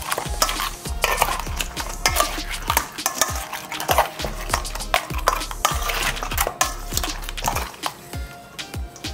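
Cascadoo fish being tossed with seasoning in a bowl makes a busy run of wet clattering and scraping knocks, irregular but steady, close and fairly loud throughout.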